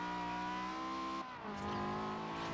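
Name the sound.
loud car engine in Forza Horizon video game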